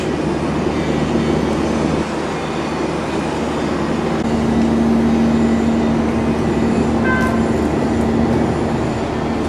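A train rumbles steadily as it approaches at Shanhaiguan, China, a low hum rising partway through with a faint whistle-like tone near the end.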